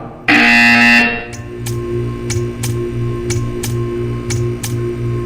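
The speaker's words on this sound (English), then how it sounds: "You will hear a buzzer." A loud harsh buzzer in the game Portal 2 blares for about a second, followed by a steady electronic hum and a series of evenly spaced ticks.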